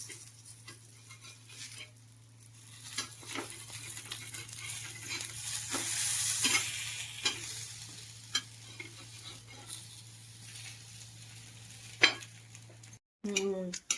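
Alu leaf vadi, colocasia rolls, shallow-frying in a pan over a medium gas flame, with a soft steady sizzle, occasional stirring and utensil clinks against the pan, and a steady low hum underneath.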